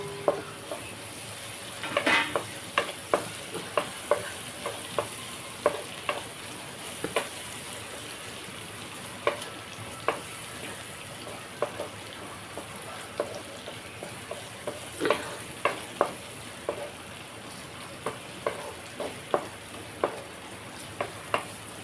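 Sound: frying ginger brinjal curry in a pan

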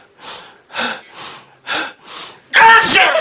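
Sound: imitated sneeze

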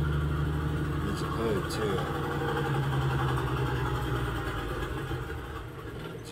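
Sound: car engine running

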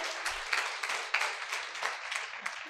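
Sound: applause from audience

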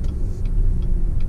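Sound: 2019 Chevy Silverado 1500 5.3 liter V8 engine

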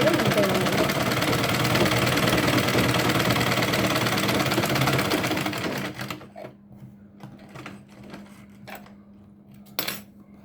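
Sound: sewing machine stitching cloth nappy

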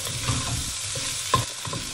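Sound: onions and garlic sautéing in a pan

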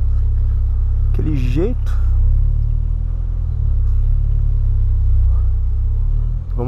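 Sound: VW Polo Sedan car maneuvering slowly to park

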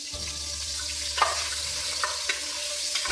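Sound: minced garlic frying in olive oil in a pot

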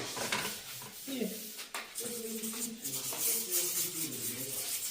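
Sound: spreading decorative plaster material on a surface

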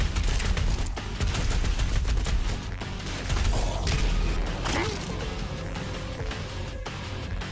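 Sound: chain gun firing in Doom Eternal video game

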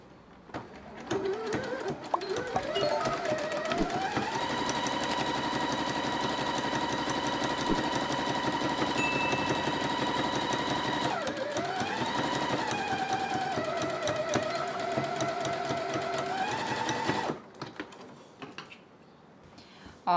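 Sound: sewing machine stitching zigzag seam on fabric edge

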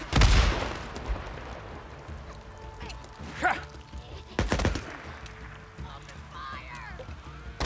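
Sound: bomb explosions in the video game Days Gone

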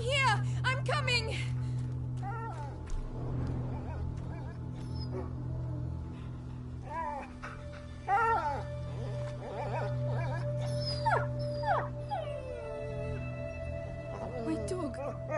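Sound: injured dog whimpering in A Plague Tale: Innocence video game

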